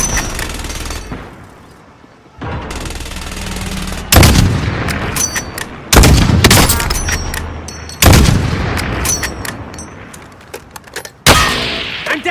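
Heavy gunfire and booming blasts in a Call of Duty match, loud bursts of shots and impacts arriving in repeated waves with short quieter gaps between them.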